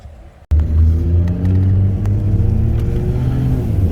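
A bolt-on E85 2020 BMW M340i and a bolt-on E85 2018 Audi RS3 accelerate from a roll in a drag race, a loud engine roar bursting in after a brief quiet moment and holding steady with rising, shifting tones.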